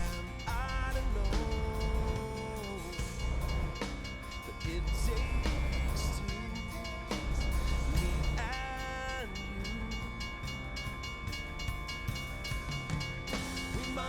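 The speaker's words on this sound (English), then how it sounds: "And now we have to wait for a train too." A train passes at a railroad crossing while a car waits, its rumble and a possible horn heard under loud music playing steadily in the car throughout.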